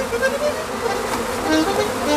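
Bees buzz around a hive in a steady, dense hum that stays close and even throughout, with no voices over it.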